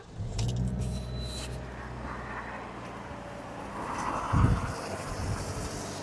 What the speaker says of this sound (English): As we start our car,